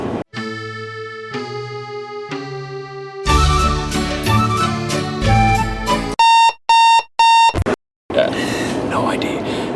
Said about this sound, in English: we're going to be Joe Ash's personal alarm clock